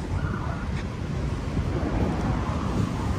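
Steady wind blows along the Manila Bay waterfront, a dense, continuous rushing roar buffeting the microphone at constant loudness with no voices.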